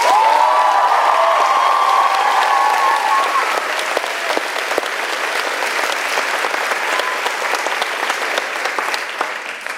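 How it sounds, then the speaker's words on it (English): An audience applauds the actresses after a Cal Poly women's theatre production, full clapping with light cheering, and a sustained voice or tone over the first few seconds before the clapping carries on alone. "Can we please have another round of applause?"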